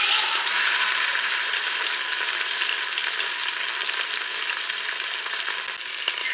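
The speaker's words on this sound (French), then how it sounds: "Maintenant, je vais faire revenir mon rôti. Je vais le faire dorer sur toutes ses faces." A pork roast browns in hot oil inside a Cookeo multicooker, giving a steady, dense sizzle and crackle that holds evenly throughout with no pauses or talking.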